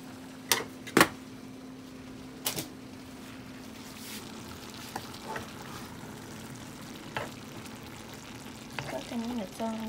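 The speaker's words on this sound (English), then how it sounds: "Cooking in its own juice." Meat cooking in its own juice in a pan for a keto cottage pie sizzles faintly and steadily, broken by a few sharp clanks and scrapes of a utensil against the pan.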